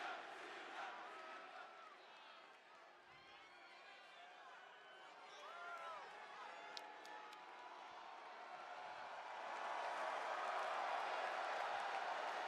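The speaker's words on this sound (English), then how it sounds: "The crowd cheering at wrestling's over is crazy." A wrestling arena crowd cheers and roars after a match on the show following WrestleMania, a broad sustained din that swells louder toward the end.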